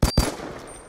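Two sharp gunshots in quick succession from the mobile shooter Fort Squad Royale Battle, loud and close, then a brief fading tail.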